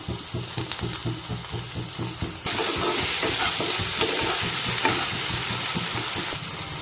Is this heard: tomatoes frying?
yes